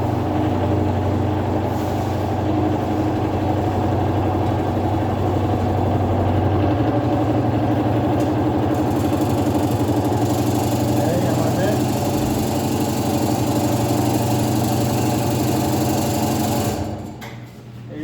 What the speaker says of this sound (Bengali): এত দেখুন আমরা কাটতেছি মেশিনে